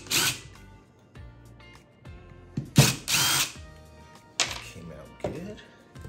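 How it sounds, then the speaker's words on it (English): Power drill backing two screws out of an epoxy resin mold during demolding, heard as several short whirring bursts with pauses between, with a person talking nearby. "So I'm just gonna pop out these two screws here."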